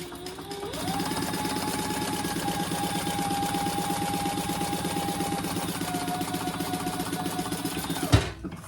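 Sewing machine stitching a seam on a vinyl pouch, a steady fast mechanical chatter that runs for several seconds and ends with a sharp click as it stops.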